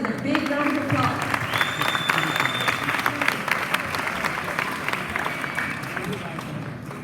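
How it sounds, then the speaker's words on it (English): Big round of applause from a graduation ceremony audience, dense steady clapping that fills the hall and holds throughout, with a few voices mixed in. "Please welcome Mr. Wissam Bazzi with a big round of applause."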